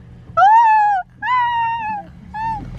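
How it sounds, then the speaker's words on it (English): A dog whines in three drawn-out, high, wavering cries, close and fairly loud, with short pauses between them. "There's also a dog right here."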